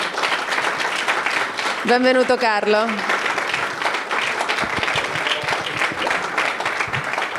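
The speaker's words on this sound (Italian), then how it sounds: "Accogliamo con un applauso Carlo Brancaleone." An audience at a film-critics' event at the Rome Film Festival applauds steadily throughout, welcoming a guest onstage; a voice speaks briefly over the clapping near the start.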